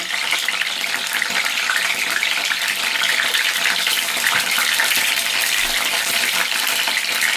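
Stuffed brinjal curry steams and sizzles in a covered pan, a steady, dense hiss that carries on without a break and is heard alone, close by.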